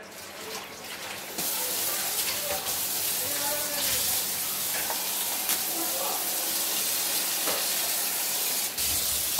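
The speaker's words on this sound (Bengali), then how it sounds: "আমি ফ্রেশ জলে চিরুনিগুলো ভালো করে ধুয়ে নেব" Combs are rinsed in fresh water at a sink, with a steady running-water hiss and splashing that continues throughout and rises after the first second or so.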